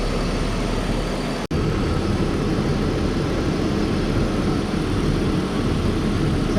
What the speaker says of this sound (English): M54 motor.